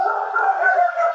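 A dog gives one sustained howl with a wavering pitch, close and fairly loud, alone with no talk.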